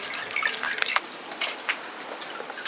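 Homemade grape wine with spices and wheat dripping and trickling as the grape pulp is pressed, with soft irregular drips and small splashes into liquid, faint and close.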